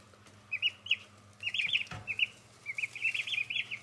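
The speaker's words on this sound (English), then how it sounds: "These are some of our other baby turkeys." Baby turkeys on a homestead peep in a string of high, thin chirps, some in quick clusters, fairly close, with a brief thump midway and no talking.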